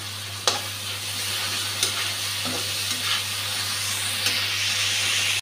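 Spice paste with ginger paste sizzling and hissing in a pan for paneer curry, a continuous close frying hiss with a few brief utensil clicks, no voices.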